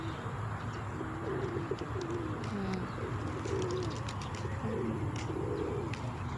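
Pigeons coo softly and repeatedly at a cemetery, low rolling calls over a steady outdoor background hum with occasional faint chirps from other birds.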